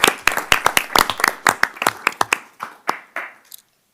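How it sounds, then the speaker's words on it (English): Applause at a village board of trustees meeting after an oath of office: a small group's distinct, fairly loud claps with a loose rhythm, thinning out over four seconds and ending in near silence. "Let's have an applause for Crystal"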